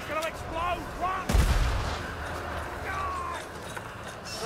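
A loud explosion in the video game Warhammer Vermintide, a sudden deep blast followed by a rumbling tail over chaotic game sounds and voices.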